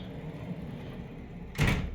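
A door in a hotel room opens or closes with one short, solid thud near the end, following a quiet stretch of room noise.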